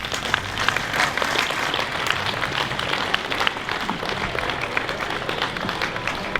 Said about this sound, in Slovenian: Aplavz, prosim.